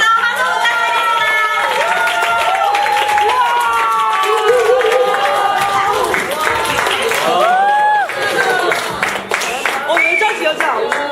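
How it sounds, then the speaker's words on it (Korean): A large crowd at a student presentation and exhibition event claps and cheers loudly for the students, a steady dense roar of applause with whoops, and voices carrying over it throughout. "멋진 시민단을 보여주는 벤자민 학생들에게 큰 박수와 환호 부탁드립니다"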